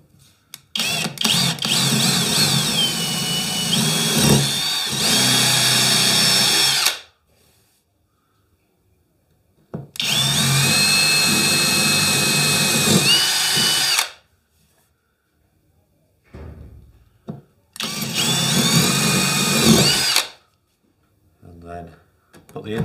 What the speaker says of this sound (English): I'm using an 8mm drill bit